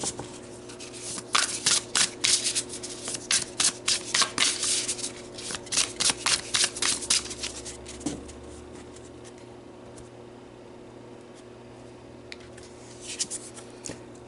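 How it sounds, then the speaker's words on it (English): Oracle cards being shuffled by hand in quick, rhythmic bursts of riffling and sliding, close and fairly soft, fading to quiet rubbing before a few final shuffles. "let's pull you some oracle cards"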